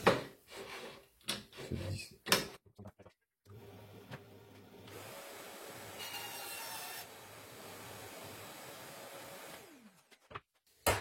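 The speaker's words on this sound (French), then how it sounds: "je vais couper un petit morceau dans la planche de tout à l'heure" A small piece is sawn from a wooden board in a workshop: sustained rasping strokes lasting several seconds, preceded by a few sharp knocks and handling noises, close and fairly loud with no talking.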